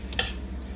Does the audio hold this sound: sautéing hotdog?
yes